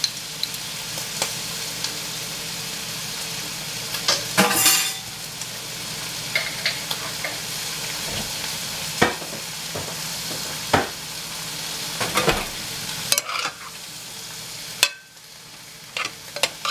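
Vegetables with garlic fry in a pan for spaghetti sauce, a steady close sizzle punctuated by repeated scraping stirs and sharp utensil knocks, one louder burst of stirring early on, no voices.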